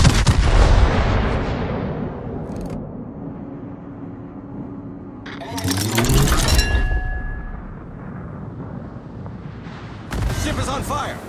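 Naval gunfire from the battleship Maine in World of Warships: heavy, booming salvos at the start, around the middle and near the end, with rumbling decay between shots.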